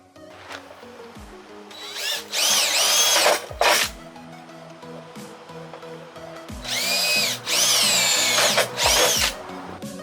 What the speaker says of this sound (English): Now you put a bigger drill bit, and it's a lot easier to drill.